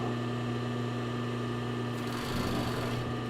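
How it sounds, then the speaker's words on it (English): An overlocker serges the fabric edges of a sports bra, giving a steady, continuous mechanical whir at close range that shifts slightly in pitch near the end, with no talking. "I'm just going to take and overlock them together"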